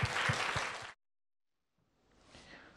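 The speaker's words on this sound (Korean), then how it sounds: "박수 한번 주십시오." Audience applause at a political rally, a loud burst of clapping that cuts off abruptly, followed after a short silence by a fainter, swelling round of applause.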